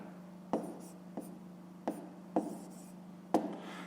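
A fraction written by hand, about five sharp taps and short scratches of a pen or chalk at irregular intervals over a low steady hum, close and fairly soft.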